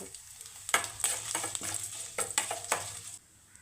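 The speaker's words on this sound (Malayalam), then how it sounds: "കടുക് കുറച്ചിട്ട് കൊടുക്കാം കുറച്ച് ഉഴുന്ന് ഒരുപ്പിട്ട് കൊടുക്കാം" Mustard seeds, urad dal and dried chilli tempering in hot oil, a soft sizzle with a burst of quick crackles and spoon clinks against the pan, fairly quiet and close, without talk.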